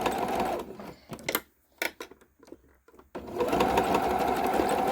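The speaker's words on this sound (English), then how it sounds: "we're just going to sew those two pouches together, just like so, using a 1/4 inch seam allowance" A sewing machine stitches zipper pouches together with a quarter-inch seam, running in a loud close whir, stopping for a couple of seconds of scattered clicks and handling sounds, then whirring steadily again.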